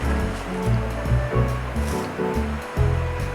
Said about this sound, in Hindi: ठंडा पानी ऐड करेंगे।